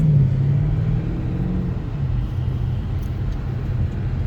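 A BMW M850i's engine and exhaust heard from inside the cabin as the car drives off, a steady deep rumble that stays loud and even throughout, with no talk over it.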